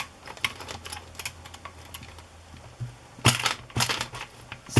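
Snug O-wire binding being tightened and fitted into the channel of a handmade smash book, giving a run of faint clicks and scrapes followed by a few louder, crisp crunching squeezes near the end.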